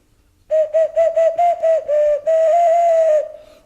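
A clay whistle toy blows a series of short, shrill tones in quick rhythm, then holds one long warbling note before stopping.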